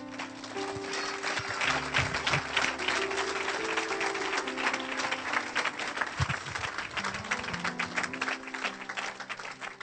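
A church congregation applauding the Lord, with sustained dense clapping from many hands that stays loud and steady, over an underlying musical hum and a few faint voices.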